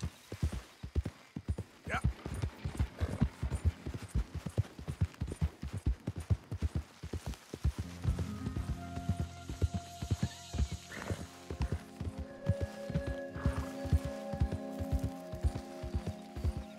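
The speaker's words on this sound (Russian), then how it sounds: "И с ним еще лошадь какая-то." Horse hooves clip-clop steadily in Red Dead Redemption 2, a rapid, regular patter of strikes. About halfway through, a louder layered backdrop of humming tones and music-like sound joins in, and the hoofbeats continue beneath it.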